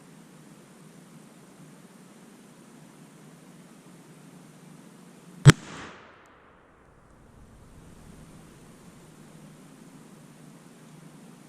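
A single sharp gunshot from an 1860 Pietta Taylors black powder revolver loaded with 20 grains of 3F powder, fired outdoors at a chronograph, cracking loudly once over steady wind and surf-like background noise, then a brief decaying rumble.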